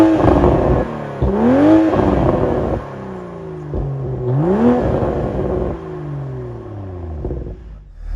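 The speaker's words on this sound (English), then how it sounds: "a wonderful sounding dual exit sports exhaust that obviously adds to the immense sports car character of the Toyota Supra" Toyota A90 Supra, 2022, with dual exit sports exhaust, revved twice in sharp bursts that rise and drop back to a deep rumbling idle, loud and close.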